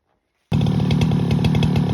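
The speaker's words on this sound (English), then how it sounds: "put the chainsaw in the mill and set it for 1 5/8 inch thickness" A chainsaw mounted in a mill starts cutting a slab from a 150-year-old blue oak at 1 5/8 inch thickness, a loud, steady, close engine roar with a rough grinding texture that begins abruptly after a moment of silence.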